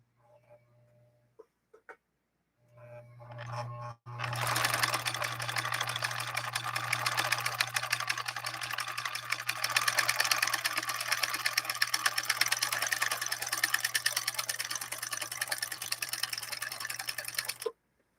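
A Viking Husqvarna 2000 sewing machine stitching fabric, a brief hum and a few clicks first, then a continuous fast, even rattle of stitching that runs nearly to the end before stopping abruptly.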